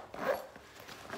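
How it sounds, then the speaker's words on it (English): A zipper on an Easter show bag is pulled closed in one quick, close, fairly quiet zip. "Zip that up."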